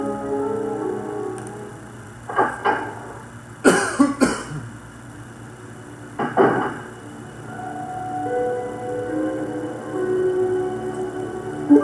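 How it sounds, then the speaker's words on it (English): A man coughs in a few separate bursts, some single and some in quick pairs, close and fairly loud over a quiet background hum. "And it's my real cough in real life."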